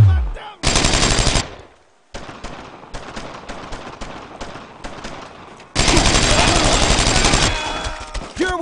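Loud machine gun fire in the World War II game Brothers in Arms: Road to Hill 30, with long sustained bursts and clusters of rapid shots close by, separated by brief gaps.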